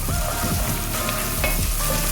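Garlic and chopped green chillies fry in a pan for gobi manchurian, giving a dense, continuous sizzle with a few stirring scrapes, close and fairly loud throughout.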